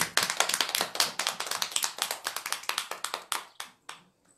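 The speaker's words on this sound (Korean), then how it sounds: "한번 박수 한번 쳐주실까요?" An audience breaks into applause at a Buddhist dharma talk in Buyeo, South Chungcheong; dense hand clapping carries on steadily, then thins into a few scattered final claps before stopping.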